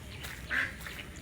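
A duck gives a single short quack, fairly faint against a steady outdoor background hum.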